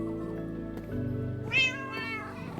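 A cat meows once with a rising, whiny tone, set over steady electronic game music that continues throughout.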